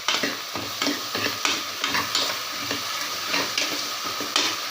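Vegetables sautéing with salt in a pan for white kurma, a steady sizzle broken by repeated scraping stir strokes at a fairly quick, uneven rhythm, close and loud with no talking.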